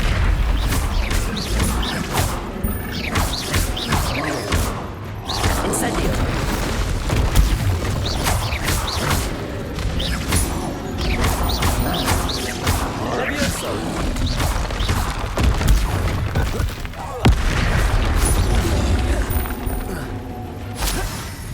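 Confringo blasting spells in Hogwarts Legacy set off repeated booms, crashes and shattering bursts in a dense, continuous barrage, with a voice talking over much of it.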